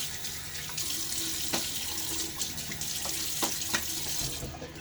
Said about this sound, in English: Water on my face.